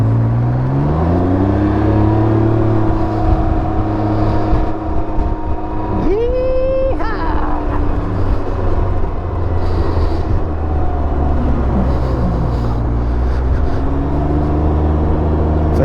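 A 2022 Can-Am Ryker three-wheeler accelerates hard, its engine note climbing in a sharp rising whine partway through over a steady, close motor hum.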